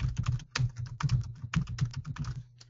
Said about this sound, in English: I'm going to click on Add Custom Fee, and I'm just going to type in seller contribution